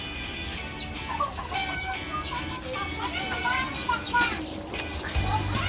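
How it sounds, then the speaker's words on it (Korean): Chickens clucking in a coop at a bird park, scattered soft clucks and chirps mixed with nearby people talking over the flock. "여기는 닭들이래, 닭."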